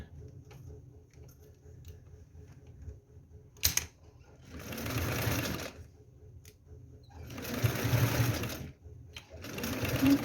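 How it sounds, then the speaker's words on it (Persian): A sewing machine stitching a braided cord tray, running in two rapid whirring bursts separated by quiet pauses, close and fairly loud, with a sharp click between and a voice talking softly. "با درجه ریز چرخ یکم میدوزیم و درجه رو دوباره درشت میکنیم."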